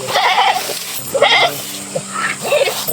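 A goat bleats close by, calling out about four times in quick, wavering bursts separated by brief pauses, with no talk in between.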